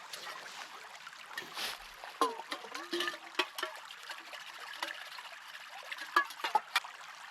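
Water trickling and splashing as dishes are washed at a backpacking campsite in Allegheny National Forest at night, with intermittent clinks and dribbles over a steady quiet background.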